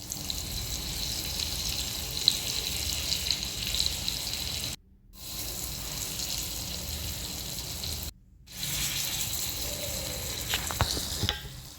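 Rava-coated brinjal slices fry on a tawa with a steady close sizzle and crackle that cuts out twice briefly. Near the end there are a few light clatters. Nobody speaks.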